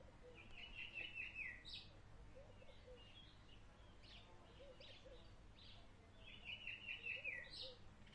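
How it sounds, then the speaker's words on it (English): Birds chirp and tweet in trees at a park with grass fields, short bright call bursts at the start and end over a quiet, steady outdoor background. "The birds chat in the trees as kids play around in the grass fields."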